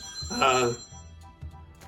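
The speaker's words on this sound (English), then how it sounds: "the phone's ringing, but that's okay" A telephone rings with a short electronic trill that starts loud and is followed by quieter repeated ring tones, heard close by with a voice faintly present.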